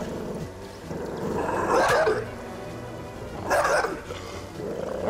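Dogs bark in the video game Divinity: Original Sin, with two loud bursts of barking rising over a steady background of game sound and growling.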